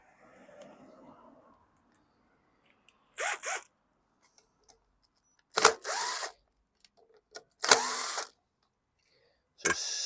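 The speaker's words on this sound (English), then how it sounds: "We're going to take off the 2 screws that go right into the carb body." A power drill spins out screws from the carburetor body of a 2020 Craftsman M110 push mower, giving several short whirring bursts separated by silence, close and moderately loud.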